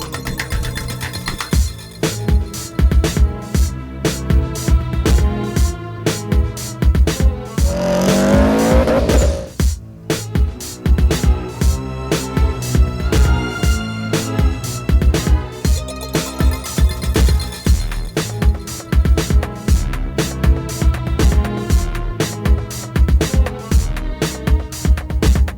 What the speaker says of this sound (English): The Boxer engine really puts out a unique sound, not to mention that HKS blow-off